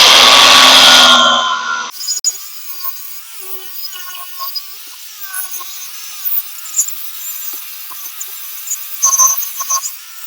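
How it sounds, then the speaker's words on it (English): An angle grinder with a wire wheel scrubs an old Pontiac wheel in one loud, harsh burst lasting about two seconds, then cuts off, leaving faint scattered clicks and handling noise. "take this grinder with the wire wheel"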